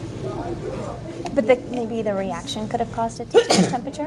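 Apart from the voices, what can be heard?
sneeze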